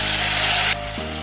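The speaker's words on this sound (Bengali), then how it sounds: "মশলাটা আমি তেলের মধ্যে দিয়ে দিচ্ছি।" Spice paste for rui fish hits hot oil with a loud, steady hiss of sizzling that cuts off sharply partway through, leaving a low hum and faint crackle.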